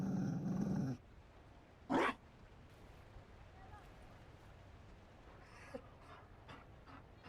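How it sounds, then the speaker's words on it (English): A Mabari war dog in the video game Dragon Age Inquisition gives a low growl with panting breaths, then a short sharp burst and a few scattered soft sounds, all fairly quiet. "You found a dog?"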